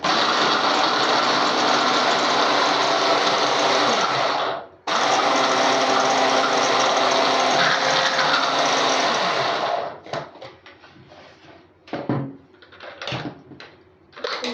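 A kitchen food processor grinds leftover cake crumbs into a flour-like powder, running as a loud, steady whirring drone with a brief pause, then stopping and giving way to clattering handling sounds.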